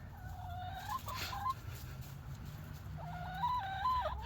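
Several chickens in a mobile tractor coop give soft clucks and murmurs close by, two short bursts of calls near the start and again near the end over a steady low outdoor hum.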